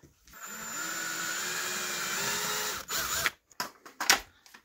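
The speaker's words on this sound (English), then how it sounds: "I'm just gonna pre-drill the metal canning jar lid here." A power drill whirs steadily for a few seconds as it bores through a thin metal canning jar lid, then stops, followed by brief handling clatter.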